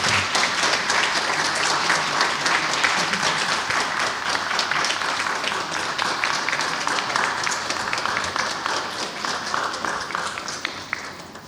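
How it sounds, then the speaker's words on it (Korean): Sustained applause from a congregation at an installation ceremony for a church's senior pastor, steady dense clapping filling the room at a consistent level for the whole stretch. "박수 하시겠습니다"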